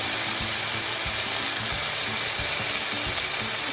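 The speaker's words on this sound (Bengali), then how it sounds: "আমি একটু ভাজতে দিলাম।" Nate greens, a soft leafy vegetable salted and frying in an open pan, give a steady, even sizzle with soft irregular bubbling pops underneath, close and continuous with no voices.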